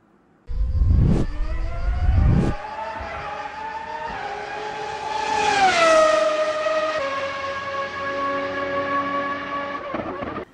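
An intro jingle for a Brazilian motorsport history show opens with two sharp bursts, then racing-car engine notes sweep up and down in pitch as they rev and pass.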